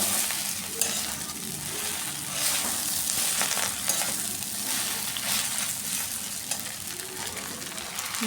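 Chowmein with Maggi masala being stirred in a hot pan, making a continuous close sizzle under irregular scraping and turning strokes, with no voices.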